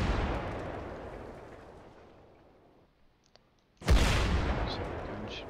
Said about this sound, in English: Yeah, I hear the shooting right now.